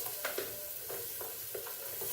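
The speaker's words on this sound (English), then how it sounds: "we're going to start by sauteing our onions." Onions sautéing in a hot pan, a steady close sizzle broken by several scraping stirs at a roughly even pace, with no talking.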